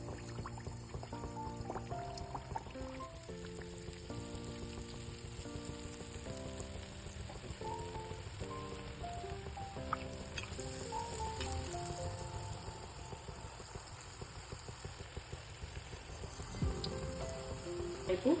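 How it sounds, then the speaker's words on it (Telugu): Ariselu, Telugu rice sweets, frying one at a time in hot oil with a soft steady sizzle and crackle, faint and low beneath prominent background music that plays throughout. "ఇది ఒక్కొక్కటిగానే ఫ్రై అవుతుంది."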